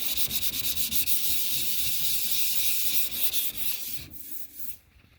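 Steady close sanding of cured epoxy primer, a continuous rough rubbing hiss with back-and-forth strokes that tapers off near the end.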